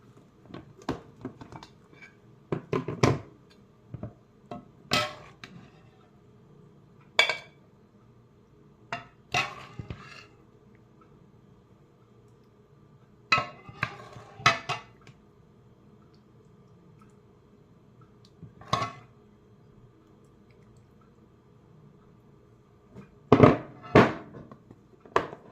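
A cooking pot is washed out, giving scattered clanks, knocks and watery splashes at irregular intervals against a quiet background.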